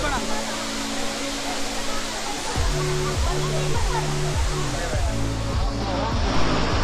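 Dudhsagar waterfall in Goa, a loud, dense, continuous roar of falling water filling the whole clip, with a faint low motor hum underneath.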